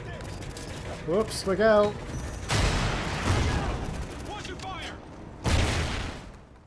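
Weapon fire in the Call of Duty Ghosts video game: a long, dense burst of shots followed by a shorter sharp volley, with a voice speaking briefly beforehand.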